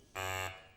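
A single loud electronic game show buzzer blast on the quiz show Fifteen To One, harsh and steady, lasting under half a second, then cutting off.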